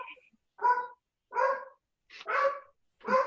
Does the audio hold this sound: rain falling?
no